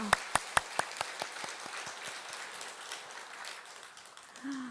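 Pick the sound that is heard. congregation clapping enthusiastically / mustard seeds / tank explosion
congregation clapping enthusiastically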